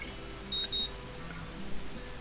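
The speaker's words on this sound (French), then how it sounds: "Le son d'une alarme me tire d'un sommeil agité et je me réveille en sursaut." Electronic alarm clock beeps from the visual novel Katawa Shoujo, two short high-pitched beeps close together, then a quieter pause over faint background hiss.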